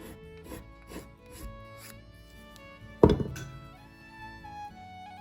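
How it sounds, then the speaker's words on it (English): A knife scrapes along a handmade needle for needle binding in short, soft rasping strokes, with one hard thunk partway through, all fairly quiet beneath gentle background music. "I'm going to finish the needle by scraping it with a knife"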